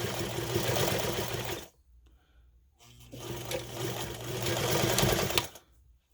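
A domestic sewing machine stitches a zipper slip pocket on a book bag with dual duty thread, running in two steady bursts with a short pause between, loud and close.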